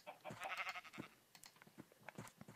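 Sheep in the game Minecraft bleat in short, quiet calls that repeat several times across a couple of seconds, with faint clicks between them.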